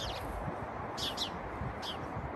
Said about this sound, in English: Just love hearing the sparrows here.